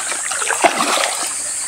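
Cold, clear water of a waterfall on farm property splashing and churning steadily up close, with one brief louder splash partway through.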